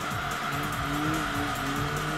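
A race car in the video game Enthusia slides sideways through a corner with sustained tire squeal over a steady engine drone, loud and continuous.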